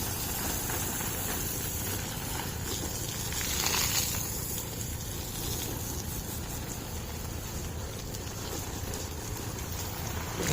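Water from a borewell pump gushes in a steady, even hiss that stays fairly quiet and unbroken throughout, with no voices.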